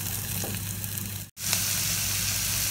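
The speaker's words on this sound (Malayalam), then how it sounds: "ഇനി നമുക്കിതിലേക്ക് തക്കാളി ചെറുതായിട്ട് അരിഞ്ഞ് ചേർത്ത് കൊടുക്കാം." Chopped tomatoes sauté in a pan with a loud, steady sizzle and hiss that drops out for a split second midway, then returns at full strength.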